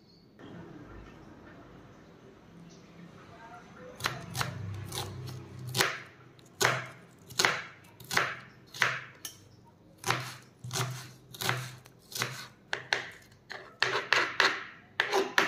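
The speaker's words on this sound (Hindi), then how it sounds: "प्याजटा को काटि देली आउ ताको टिके छोटा छोटा पीस करी काटि देबी प्याजटा को" A knife chops an onion into small pieces on a board, with a dozen or more sharp, evenly paced knocks, close and clear, following a quiet lead-in.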